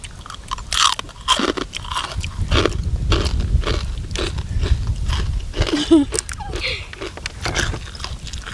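Crunchy chewing of spicy blue swimmer crab salad with fermented fish sauce, close and loud: repeated bites and crackly crunches in an uneven rhythm, with brief sounds of handling between them.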